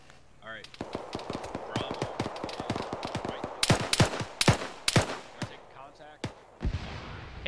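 Rapid rifle gunfire in the ArmA 3 military video game, a dense run of sharp reports building to several loud close shots, with voices talking over the firing.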